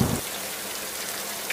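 Cartoon rain pours steadily, a dense even patter of drops on surfaces that holds constant throughout after a brief low thump at the start, with no voices.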